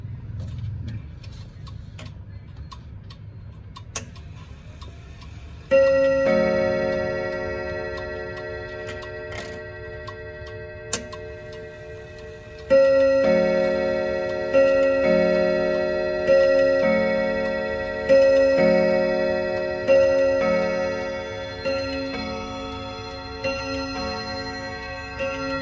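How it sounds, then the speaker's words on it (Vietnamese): French wall clock from 1950–1960 with brass gongs, ticking faintly before a sequence of loud, ringing chimes strikes in repeated groups, each note sustaining and decaying, no voices. "bây giờ em sẽ cho các bác nghe tiếng chuông của chiếc đồng hồ"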